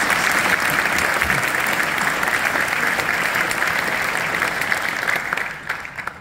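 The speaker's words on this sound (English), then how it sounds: "So let's give them all a round of applause" At the Fort Lauderdale State of the City address, an audience gives a round of applause for the Public Works Department, sustained dense clapping from many people that holds steady, then thins at the end.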